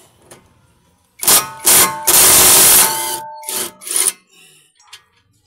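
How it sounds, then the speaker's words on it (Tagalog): An impact wrench loosening a bolt on the brake of a Mitsubishi Mirage G4, loud close bursts of rattling hammering in several short runs with one longer sustained burst in the middle. "gamitan na natin ng impact para matanggal"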